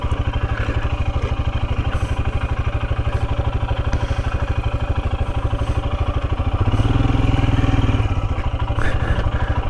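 A Royal Enfield Himalayan's single-cylinder engine thumps steadily as it rides along Cornish country lanes, a loud close pulsing beat with a brief swell of throttle near the end, and no talk over it.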